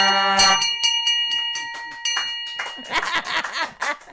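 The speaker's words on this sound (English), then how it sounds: "Wishing that the second mate would strike the bell" Ship's bell struck once at sea, a bright ringing clang that rings out and fades over a couple of seconds, followed by people talking.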